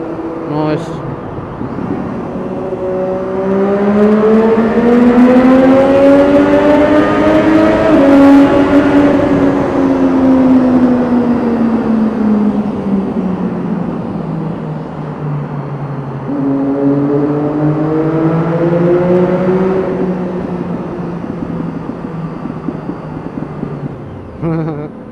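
A car driven hard in third gear through a tunnel, engine note climbing loud and close, easing off, then surging again with echoing reverberation off the walls.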